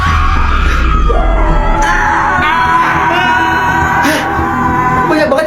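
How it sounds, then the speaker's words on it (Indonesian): Many people scream together at night, loud overlapping shrieks and yells that rise and fall in sustained waves. "Banyak banget yang teriak."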